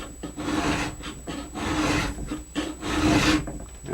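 A hand file rasps along the steel edge of a new ski during tuning, in repeated close strokes with short pauses between passes, the scraping growing heavier toward the end.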